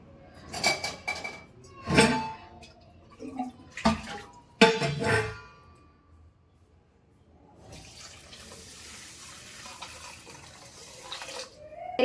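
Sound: water poured into a container

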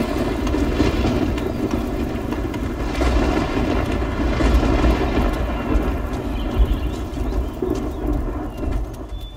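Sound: thunderstorm in video game Risen 2

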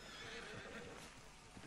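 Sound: horse whinnying in video game Red Dead Redemption 2

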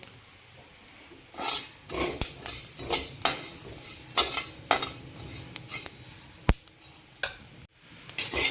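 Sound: dry roasting coriander and cumin in pan

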